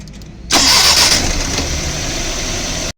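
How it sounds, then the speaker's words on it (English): After a brief quiet moment, a petrol car engine cranks and catches, then settles into a loud, steady idle up close before cutting off. "A petrol engine can require anything from 100 to 300 amps to crank and start."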